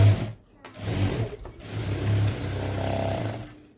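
A sewing machine stitching a folded blouse hem near the hooks, running in short whirring bursts with brief pauses, then a longer steady run of stitching close by.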